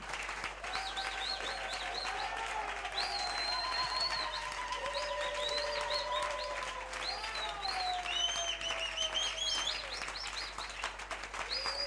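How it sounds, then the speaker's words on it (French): Church audience clapping in steady scattered applause for several seconds, with faint chirping and whistle-like tones threaded through the clapping. "Are you clapping like that? Is that the way to clap?"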